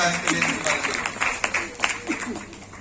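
An audience at a Modicare training meeting claps, a dense patter of many hands that fades gradually, with a voice speaking over the applause.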